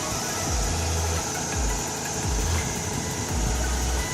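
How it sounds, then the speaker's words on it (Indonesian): A 1300 cc rotary engine in a Mazda RX-8 runs steadily at idle, a continuous broadband hum with a low throbbing pulse repeating about once a second, close and fairly loud with no talking. "Ini mesinnya menyala. Suara mesinnya halus."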